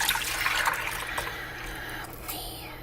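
Milk pours into a bowl of chocolate chia seed pudding with a quiet, splashy liquid trickle that fades out over a few seconds.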